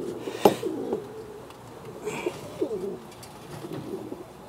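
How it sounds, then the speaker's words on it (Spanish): Pigeons cooing nearby, a male with a blue hen, giving a few soft throaty coos spaced out over quiet background sounds. "Ahí está el palomo, con una paloma azul."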